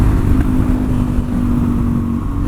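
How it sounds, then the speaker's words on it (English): A Suzuki DR-Z400SM motorcycle engine drones loud and steady at high revs around 70 mph, a strained continuous hum with rushing wind noise. "the engine sounds like it's working harder"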